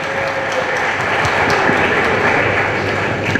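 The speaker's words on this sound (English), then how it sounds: "Let's clap for him." Dense, even clapping from an audience fills the whole moment, a brief round of applause at moderate loudness with no voices on top.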